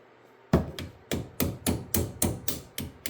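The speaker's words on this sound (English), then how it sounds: "I'm going to punch this caliper pin out." A hammer drives a punch against a brake caliper pin on a Lotus Elise, with about nine close, sharp metallic knocks in a steady rhythm that begins after a brief quiet moment.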